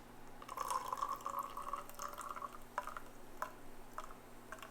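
A strained Paloma Roja cocktail, made with spicy peppers and lime juice, pours from a shaker into a glass in a steady liquid stream with a few drips and splashes at the end.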